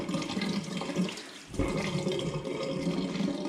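Water runs steadily from a tap as someone washes cream off their hands at a sink. The splashing dips briefly, then gushes again close by.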